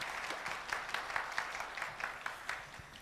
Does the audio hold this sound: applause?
yes